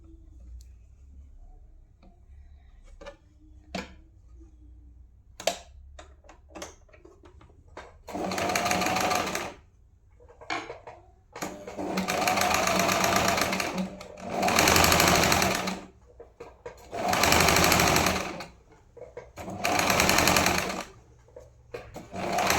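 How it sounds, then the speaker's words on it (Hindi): A sewing machine stitches red blouse fabric for a choli-cut blouse. It runs in several steady, loud bursts of whirring stitching, with pauses between them, after a stretch of scattered light ticks and clicks. No voices are heard. "इसमें हमने खींचना नहीं है फैब्रिक को, धीरे धीरे सिलाई लगानी है।"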